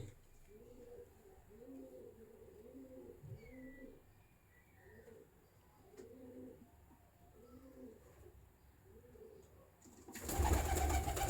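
Pigeons, an old-bloodline teddy kabutar breed, coo in repeated low throaty phrases close by, steady through the stretch before a burst of loud broadband noise at the end.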